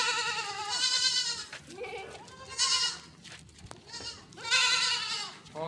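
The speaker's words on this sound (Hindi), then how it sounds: "बहुत ज़्यादा शोर कर रहे हैं, इनको भूख लगी हुई थी गाइस।" Hungry goats and young kids bleat loudly and repeatedly in a pen before feeding, several overlapping calls rising and falling close by.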